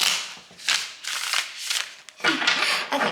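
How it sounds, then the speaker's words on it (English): Tarot cards being shuffled by hand in several loud, close bursts of riffling and flapping, with short pauses between and no speech. "So let's do one more shuffle."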